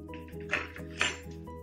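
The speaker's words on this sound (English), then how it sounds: "Take your fork and you need to stir it until the food dye breaks into smaller circles." A metal fork stirs food dye in a glass of water, giving a quick series of light clinks and taps against the glass, with two sharper, brighter strikes in the middle. The sound is close and fairly quiet, with no talk.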